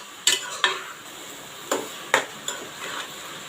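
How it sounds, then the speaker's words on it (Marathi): Green chilli frying in tempering oil for a prawn biryani, heard as a faint sizzle with a few sharp clicks and scrapes of a spoon stirring in the pan. "एकच हिरवी मिरची मी टाकलेली आहे"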